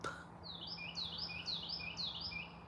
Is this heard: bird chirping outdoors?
yes